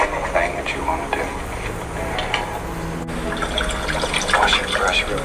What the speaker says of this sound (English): Wash your brush real quick.